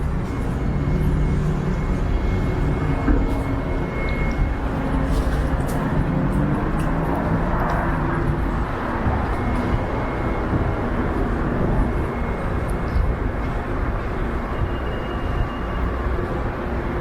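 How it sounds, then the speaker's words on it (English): A train pulls in beneath an elevated expressway, a steady broad rumble holding loud and constant with faint city noise layered over it. "I hear a train coming in"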